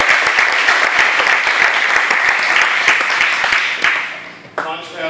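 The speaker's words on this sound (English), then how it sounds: "So one more round of applause." Sustained audience applause at a startup weekend event, dense clapping from a sizeable crowd that tapers off near the end as a voice begins to speak.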